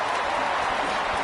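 Football stadium crowd at an LSU vs Notre Dame game roaring for a punt return, a dense, steady wash of cheering and applause that stays loud and unbroken for a brief moment.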